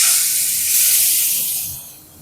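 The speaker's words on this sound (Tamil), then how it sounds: "கிராம்பு போட்டுட்டு கொஞ்சம் எட்டக்க நிற்கணும் இல்லாட்டி மூஞ்செல்லாம் தெரிச்சிடும் போல இருக்குது" Cloves and fennel seeds spluttering in hot oil for a keema biryani, a loud, steady hissing sizzle close up that eases off toward the end.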